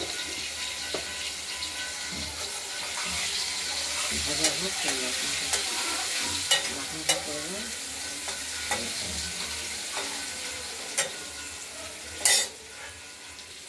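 Potatoes fry in a pan with a little turmeric, giving a steady close sizzle broken by scraping stirs and a few sharp clinks of a utensil against the pan.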